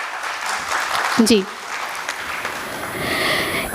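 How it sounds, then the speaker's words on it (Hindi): An audience applauds at a Hindi poetry recital honouring Dr. Ambedkar and Mata Ramabai. A brief spoken word comes first, then clapping swells into a dense, even patter toward the end. "आप सभी एक बार ज़ोरदार तालियां बजाएं"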